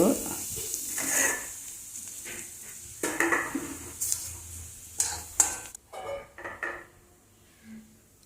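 Mustard seeds and urad dal sizzle in hot oil in a kadai, a close crackling fry broken by clinks and scrapes of a metal spoon against the pan.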